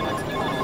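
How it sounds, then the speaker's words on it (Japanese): A smartphone sounds a short, steady ringing alert tone, set off remotely by a smartwatch's sensor; the tone is clear and continuous for under a second. "バイブと音でスマートフォンから鳴らす機能を持っています"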